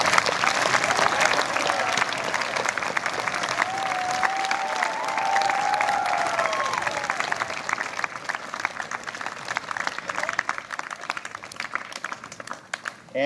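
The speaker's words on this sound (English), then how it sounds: "I think an applause there." Crowd applause at an HMCS Quadra cadet parade, a sustained spread of many hands clapping with some cheering that holds steady, then breaks into sparser, more distinct claps toward the end, with a brief whistle-like tone partway through.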